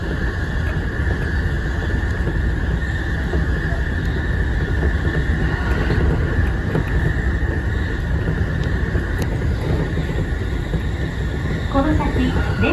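Steady low rumble of a Keiyō Line commuter train car in motion between Maihama and Kasai-Rinkai-Kōen, continuous and fairly loud, with a faint hum running throughout and no clear pauses.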